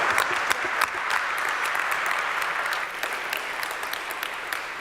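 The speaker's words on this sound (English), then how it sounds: "let's give these guys a huge round of applause" A crowd claps steadily and loudly for presenters on stage at a cyber security pitch event, continuous dense applause throughout with a few sharper individual claps standing out.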